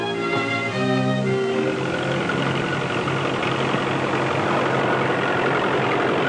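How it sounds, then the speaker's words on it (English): A 1940s farm tractor engine pulls a plow, its steady heavy rumble running continuously and fairly loud, with a droning, idling-like hum throughout and no voices. "the replacement of the horse by the tractor for drawing plows and cultivators."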